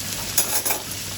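Potato filling for stuffed chillies sautés in a pan, a steady close sizzle with a couple of brief stirring scrapes, no voices.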